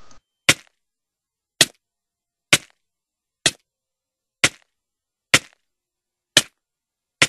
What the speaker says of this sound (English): If you hit them, here's the sound that it makes.